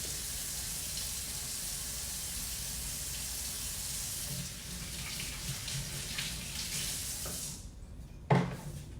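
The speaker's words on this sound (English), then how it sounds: "just wash my hands real quick" Hands washed under a running kitchen faucet, a steady close hiss of water that tapers off near the end, followed by a single brief knock.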